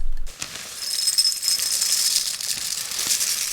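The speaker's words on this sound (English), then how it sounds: "So we're gonna record audio actually of the cornflakes we're about to pour." Cornflakes poured into a bowl in La Réunion, a steady dry rattling crackle that runs for about three seconds, close and fairly loud with no talking.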